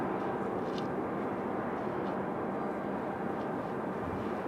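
A United Airlines plane on flight 2407 to Houston, moving at Raleigh-Durham airport, gives a continuous, even engine rumble and roar at moderate distance, with no voices.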